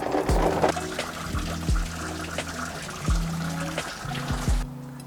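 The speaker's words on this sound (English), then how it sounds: "Just flushed some more water through there" Water flushed through the engine block drains of a 1991 Mitsubishi Montero, pouring and trickling in uneven surges with several distinct splashy bursts and dribbles, close by, before going quiet near the end.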